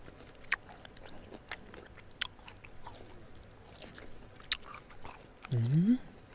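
Crispy stir-fried cabbage eaten at a mountain campsite in Chiang Mai gives sparse, close, faint crunchy bites and chewing clicks spread over several seconds, ending with a brief voiced hum.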